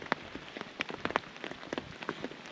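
Rain patters on a campsite beside Alaska's Copper River, with close, irregular drops tapping a surface over a soft steady wash and no one talking.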